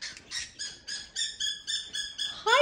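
A pet owl calls in a steady series of about eight close, loud, harmonic chirping notes. The notes are evenly spaced and repeat in a regular rhythm, with a final rising squawk at the end and no talking.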